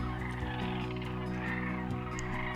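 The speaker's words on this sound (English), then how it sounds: "hundreds of birds on the ground started calling out loud and launched into flight" A dense chorus of loud, rattling sandhill crane calls from a large flock, continuous and overlapping, with no pauses across the whole stretch.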